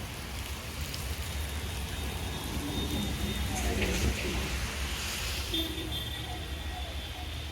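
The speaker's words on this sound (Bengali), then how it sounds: "ভালোই বৃষ্টি হচ্ছে বাইরে দেখো।" Heavy rain pours outside beside a car during a family photo session, a dense steady hiss of drops on surfaces throughout, with faint voices in the background.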